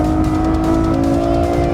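Ferrari F12 Berlinetta engine pulling hard under acceleration, a loud, steady, close-up mechanical roar with a sustained tonal drone and no speech over it.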